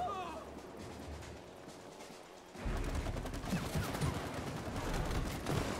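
Rapid bursts of gunfire from the co-op video game It Takes Two, fairly faint and dense, getting louder partway through, with a player talking over it.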